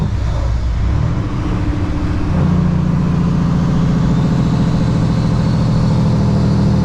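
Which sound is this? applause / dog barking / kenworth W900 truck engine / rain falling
kenworth W900 truck engine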